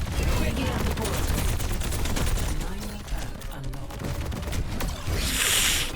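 Sustained, loud rapid gunfire in the Overwatch video game, a continuous dense rattle of shots throughout with a brief bright burst near the end, with game voices underneath.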